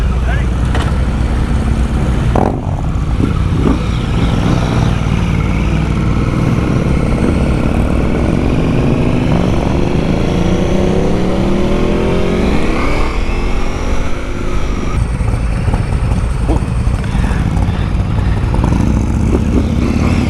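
Motorcycle engines, including a 2024 BMW S1000RR and Harley-Davidsons such as a Road King, run loudly and continuously close by, with revs rising and falling and someone talking over them.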